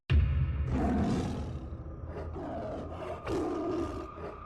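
Loud, rumbling animal roar, a wild big cat roaring at night, rising sharply and sustained with a second surge near the end, used as a sound effect in a French school audiobook story set among wild animals.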